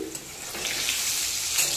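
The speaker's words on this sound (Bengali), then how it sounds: "এই যে দেখো এইদিকে আলু ভাজছি" Large-cut potatoes fry in hot oil, giving a brief, steady, moderately loud sizzle with a faint watery hiss and no talking.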